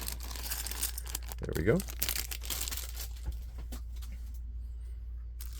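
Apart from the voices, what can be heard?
opening a loud plastic bag of Lego pieces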